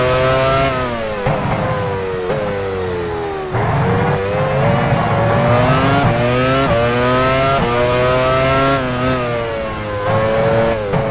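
Formula 1 car driven by Jean Alesi entering the pit lane at the Hungaroring in the 2000 Hungarian Grand Prix, in the video game F1 Challenge 99-02: a loud, close, high-pitched engine whine that repeatedly rises and drops in pitch through gear changes, with no talking.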